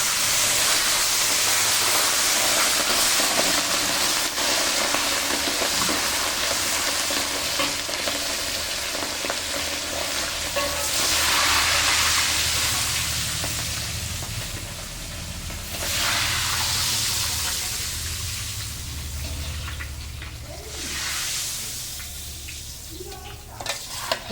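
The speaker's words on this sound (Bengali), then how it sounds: "তাই মাছগুলো হালকা হালকা ভেজে নিচ্ছি" Pieces of hilsa fish fry lightly in a pan with a steady close sizzle and crackle that swells and eases over time, with no voices.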